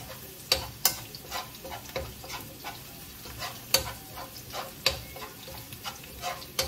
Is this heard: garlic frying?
yes